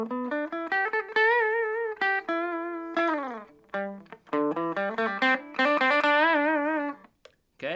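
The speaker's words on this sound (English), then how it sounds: "So we'll do clean tone leads, okay?" Clean-toned electric guitar playing melodic lead lines, sustained single notes and bends with short pauses between phrases, loud and close with no talking.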